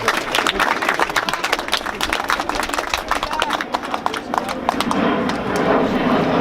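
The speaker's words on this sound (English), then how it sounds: "Thanks for the applause on that one." A rally crowd breaks into sustained applause and clapping, dense and loud throughout, with cheering voices mixed in.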